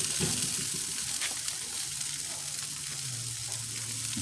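Barbecue sauce sizzles steadily on pork ribs on a grill, a dense crackling hiss that stays level throughout, close up, with no talk.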